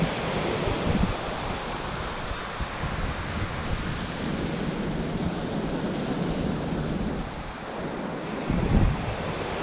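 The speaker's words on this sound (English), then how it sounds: "The wind's dying down now" Steady wind gusts across a seashore on the Bristol Channel during an evening of sea fishing, mixed with a constant broadband rush of surf, briefly swelling near the end and otherwise even, with no voices.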